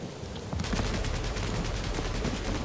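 Sustained rapid gunfire in a Guardians of the Galaxy video game, a dense continuous rattle of shots that starts abruptly and stays loud throughout.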